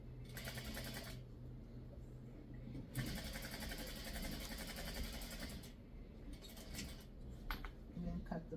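A sewing machine stitches pieces of a pre-cut pumpkin quilt kit in bursts of rapid mechanical whirring, pausing briefly between runs, close and fairly loud over a steady low background hum.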